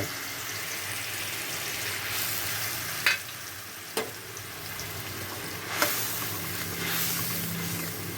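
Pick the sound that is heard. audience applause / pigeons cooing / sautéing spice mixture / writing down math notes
sautéing spice mixture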